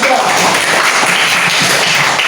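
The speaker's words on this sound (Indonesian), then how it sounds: "Oke, tepuk tangan dulu untuk kita." Steady applause fills a classroom, many students clapping together loudly and densely for about two seconds before it cuts off abruptly.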